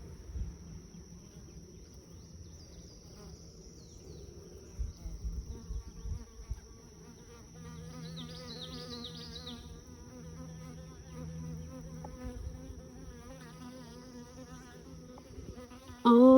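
Worker honey bees buzzing inside an opened hive with a honey super, a dense continuous hum of many wings close by, fairly quiet and alone, with a few louder passes near the end.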